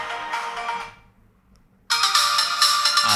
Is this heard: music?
yes